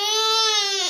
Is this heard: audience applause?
no